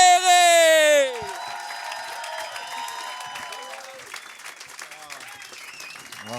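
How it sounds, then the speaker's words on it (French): A comedy club crowd applauds and whoops for stand-up comedian Christophe Dupéré as a loud held tone fades out, leaving dense clapping that carries on throughout. "Applaudissez très fort tout de suite."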